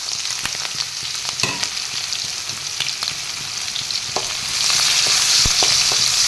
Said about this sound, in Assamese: সেই তেলতে মই এতিয়া কাটি থোৱা পিঁয়াজ আৰু জলকীয়া কেইটা দি ল'ম